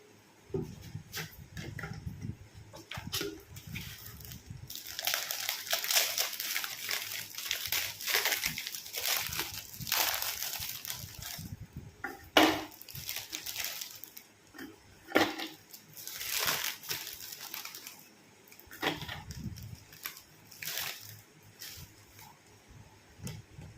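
Biscuits poured out of a packet into a container, with crinkling wrapper and rattling pieces in scattered bursts, close and fairly quiet. Low-level household background sounds accompany them.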